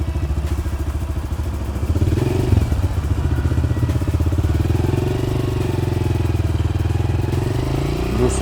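A 2026 Honda CRF 125 motorcycle engine runs steadily near the microphone during a riding lesson, its low drone rising slightly at about two seconds as light throttle is added, then holding an even, moderately loud note throughout.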